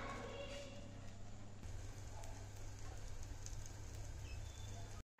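Pav roasts in butter on a pan with a quiet, steady sizzle and fine crackle, continuous until it cuts off abruptly at the end.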